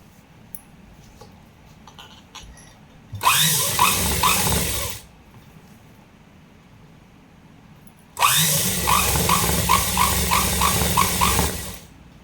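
An electric sewing machine stitches a salwar in two bursts of rapid mechanical chatter, the first short and the second longer, separated by a quiet pause.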